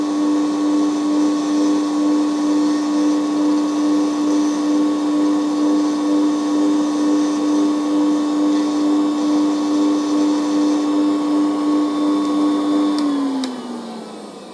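A Baehr Euro-Boy electric rotary nail file with vacuum runs with a loud, steady whining hum and faint pulsing, then winds down near the end as the motor stops.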